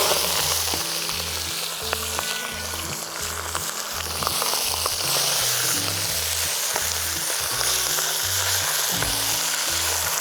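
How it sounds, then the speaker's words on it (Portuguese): Free-range chicken frying in lard in a pot over an outdoor backyard fire, a loud continuous sizzle and crackle with faint stirring scrapes throughout. "Vou pôr o frango já aí."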